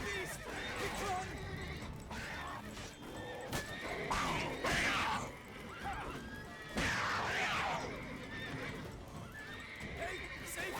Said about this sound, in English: Calm down, Roach. Get off the horse